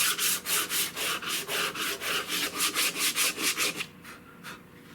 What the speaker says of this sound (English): it's a fine file, but it's a fairly coarse surface for a gun stock, so I got to go real lightly